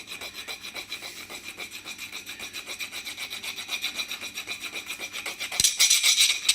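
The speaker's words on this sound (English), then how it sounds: "I'm using a small file, and you'll find it'll come off quite easily" Close, rapid rasping of a small file scraping resin back and forth on a Suzuki V-Strom 1000 charging part in a steady rhythm, growing brighter and harsher near the end as it reaches the magnet.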